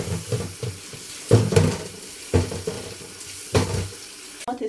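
Garden peppers are washed under a running tap, making repeated bursts of splashing water and handling noise in an uneven rhythm, close by.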